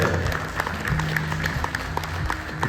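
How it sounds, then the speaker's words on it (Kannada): Loud audience clapping for a lucky draw winner at a steel dealers' event, a dense continuous round of applause with no voices over it. "ಬರಲಿ ಜೋರಾದ ಚಪ್ಪಾಳೆ"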